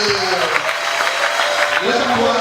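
A church congregation applauds and cheers in a dense, continuous wash of clapping. Voices rise through it and a speaker talks over the noise.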